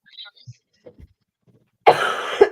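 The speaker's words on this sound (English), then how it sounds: "I am so sorry about the cough" A single harsh cough close to the microphone near the end, after faint soft sounds and near silence, from a woman hosting a tarot card reading.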